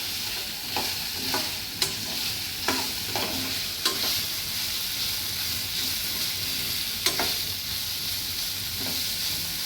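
Green beans poriyal with grated coconut is stirred in a hot pan, a continuous soft sizzle broken by repeated sharp scrapes of a spoon at an uneven rhythm, close and alone.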